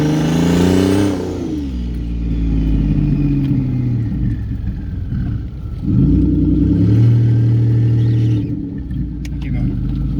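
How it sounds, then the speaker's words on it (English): A turbocharged car with an AMR turbo kit and COMP 6875 oilless turbo revs hard during a burnout on drag radials. A loud engine note climbs and falls in surges, close and powerful, with a tonal whine sweeping through. "And we did a nasty burnout."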